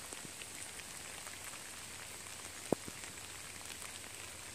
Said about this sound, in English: McAfee Knob in the rain.